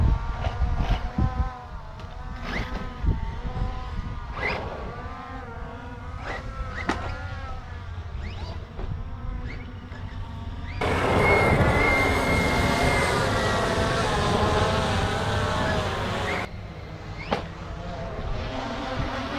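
A JLBRC JLB21101 extreme RC car drives over rough terrain, its electric motor whining in rising and falling bursts with scattered bumps and clatter, swelling into a louder sustained whir midway before easing back.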